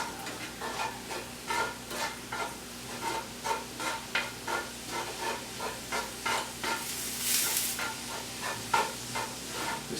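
Cauliflower dirty rice sizzles in a hot pan as it is stirred repeatedly, each scrape and push adding a rhythmic swish over a continuous frying hiss, close and moderately loud.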